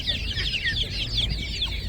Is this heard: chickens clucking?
yes